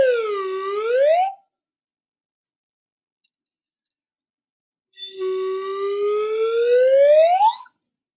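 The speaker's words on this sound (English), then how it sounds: "I have a slide whistle here." A slide whistle plays two gliding tones, the first swooping down and back up, then after a few seconds of silence a longer one rising steadily upward, clear and close with no talking.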